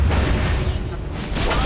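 A tower is destroyed in a mobile MOBA game, giving a dense, loud rumbling boom and crackling burst that fills the moment without a break.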